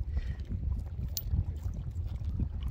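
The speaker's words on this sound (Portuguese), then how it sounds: "Mas muito vento, tá atrapalhando muito os vídeos aí." Strong wind at a dried-up reservoir buffets the microphone with a steady low rumble and gusty roar that hold for the whole stretch, close and fairly loud, with no voices.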